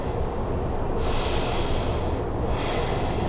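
Slow, deep breaths drawn and released during a yoga pose, each long breathy whoosh close and steady, with two noticeable inhale–exhale cycles and no talking.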